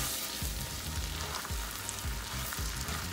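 Shallots sizzle steadily in a pan, a dense close frying hiss with faint low bubbling pops and soft stirring knocks, no voices.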